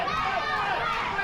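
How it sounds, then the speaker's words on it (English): Wrestling crowd at North Park for an Iron Sharpens Iron match, a dense, steady roar of cheering and chatter filling the whole clip with no pauses. "And listen to this crowd at North Park."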